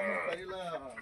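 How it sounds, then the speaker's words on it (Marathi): A rooster kept for an Ashadhi festival meal gives a short, close, harsh crowing call that lasts about a second, with a wavering tone. "कर कर असा बांग देणार कोंबडा"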